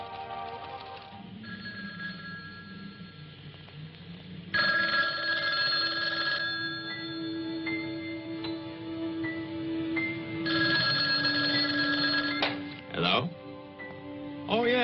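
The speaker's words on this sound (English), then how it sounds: "How about that telephone up at the Butler house? Is it working? Well, try it now." An old landline telephone rings in a house, bursts of bright bell ringing recurring across the span at moderate loudness, with quiet room sound and music underneath.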